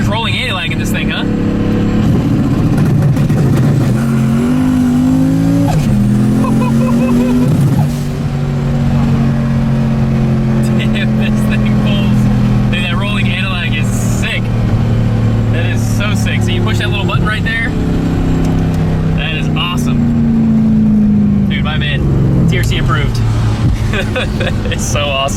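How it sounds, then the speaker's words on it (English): Turbocharged Lexus SC400 V8 making about 800 horsepower, revving loudly and steadily with rolling anti-lag, its deep engine drone rising and falling close by while people talk over it. "There's rolling anti-lag in this thing, huh?"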